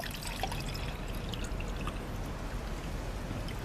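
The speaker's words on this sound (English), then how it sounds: "So we'll throw in some water." Water from a cork-stoppered 1-liter bottle pours into a pot for making coffee on a camping stove, a steady close splashing stream lasting a few seconds with no talking.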